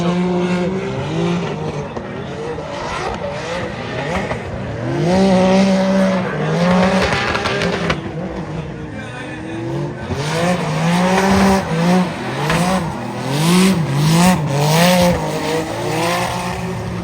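Cars drifting at a drift championship in China, engines roaring and revving as tires squeal in long repeated sweeps, loud and close for the whole stretch, with no talk.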